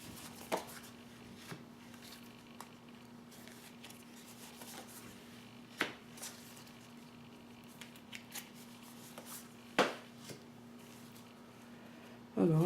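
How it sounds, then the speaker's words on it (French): Tarot cards are drawn and shuffled for a reading, giving soft scattered card snaps and flicks spaced irregularly over a quiet room hum, with a few sharper slaps near the end. "Donc je vais tirer 6 cartes pour le masculin."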